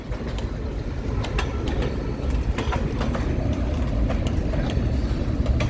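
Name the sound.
empty freight train passing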